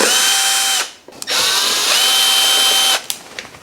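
A power drill unscrews short T30 screws from the front of a KTM 1290 Super Adventure S motorcycle, in two loud whirring bursts with a brief pause between them and a short fade at the end.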